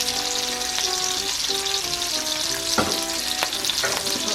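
Squid adobo is being stirred in a hot frying pan with garlic, giving a steady close sizzle and frying hiss with scraping stir strokes and a few brief clinks of the utensil against the pan.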